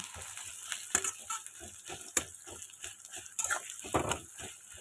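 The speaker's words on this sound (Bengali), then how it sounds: "তো এই দেখো পেঁয়াজ আর লঙ্কাটা একটু ভালো করে আগে ভেজে নেব।" Onions and green chillies frying in a pan, soft sizzling under repeated scraping stirs and clinks of a utensil, close and fairly quiet with no talking.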